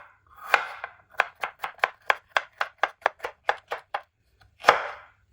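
A knife chops bell peppers, cabbage and coriander on a board in a steady run of about a dozen crisp, evenly spaced strokes, with a couple of heavier cuts at either end.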